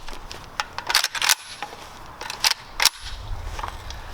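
An AK rifle being reloaded: a series of sharp metallic clicks and clacks as the magazine is released, rocked into place and seated, in separate bursts with a low handling rumble at the end.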